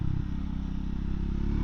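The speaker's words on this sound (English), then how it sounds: "Nice little sound from that exhaust." Triumph Scrambler 400X motorcycle exhaust giving a steady, close, low-pitched engine note that stays even throughout, with no speech.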